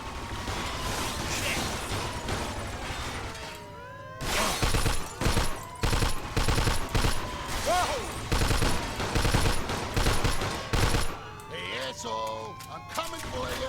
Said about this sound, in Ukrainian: А тепер вони з вулиці стріляють